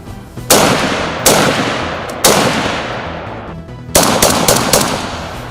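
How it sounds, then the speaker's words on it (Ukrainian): Sharp gunshots crack out in irregular bursts at outdoor shooting practice, single shots then a quicker volley, each leaving a short echoing decay. "А на ще одній локації чути стрілянину."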